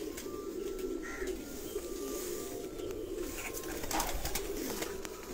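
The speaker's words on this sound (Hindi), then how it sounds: "ये सियालकोटी जोंसरे कबूतर हैं जी" Sialkoti pigeons coo softly, low and fairly faint, against a steady background hiss with a few distant higher chirps, and no talking.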